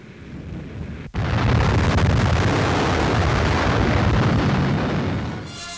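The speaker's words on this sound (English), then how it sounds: "Finally, another view of the explosion from a different camera position." The 1946 Operation Crossroads atomic bomb test at Bikini, heard from an old newsreel: a sudden heavy blast after a brief dropout, then a long, loud, rumbling roar that holds steady and fades slightly at the end.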